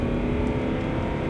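A 2005 Range Rover Vogue with a 3-liter diesel engine pulls hard at full throttle to overtake, a dense steady engine drone heard from inside the cabin.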